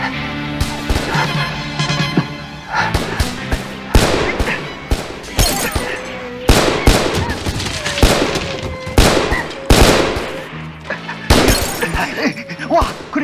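Heavy gunfire in a shootout from the 1985 film Police Story, with loud, rapid bursts and sharp cracks with shattering impacts, repeating irregularly across the scene, with voices shouting in between.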